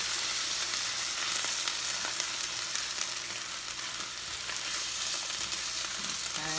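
Broth poured into a frying rice mixture for Puerto Rican arroz con gandules sizzles loudly and continuously in the pan, a close, bright, crackling hiss with faint stirring and no talking.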